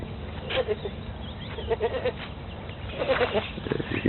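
A tethered pet goat bleats a few times, moderately near, over a steady outdoor background with a voice speaking faintly between the calls.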